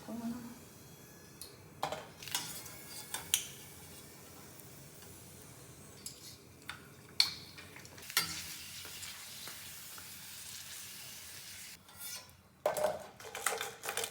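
Puris frying in hot oil on a home stove, with intermittent bursts of crackle and clattering utensil knocks over a low background sizzle, plus faint sounds of someone nearby.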